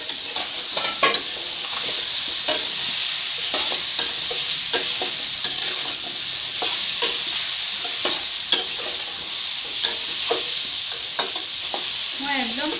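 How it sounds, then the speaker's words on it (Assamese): Jackfruit curry fries in a pan with a steady close sizzle, broken by repeated scraping clicks of a spoon stirring through the pieces; no voices. "আকৌ অলপ লৰাই দিম।"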